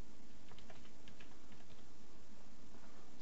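Quiet, fast keystrokes on a computer keyboard, a short run of light clicks close by, with no talk over them.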